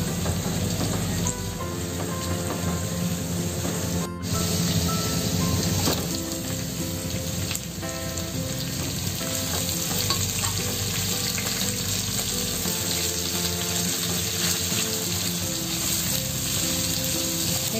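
Onions sautéing in a pan with ginger and garlic give off a steady, dense sizzle and crackle that runs unbroken throughout, with occasional faint stirring scrapes.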